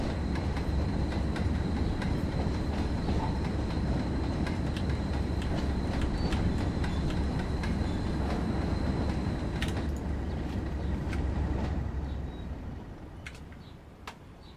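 A Class 37 diesel-hauled train rumbles past steadily on the Scunthorpe to Redcar line with a deep continuous roar, clicking wheels and occasional metallic squeals, then fades away at the end.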